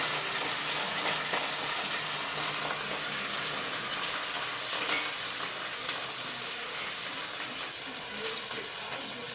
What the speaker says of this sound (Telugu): పచ్చిమిర్చి, కరివేపాకు ఇలా వేయించుకోవాలండి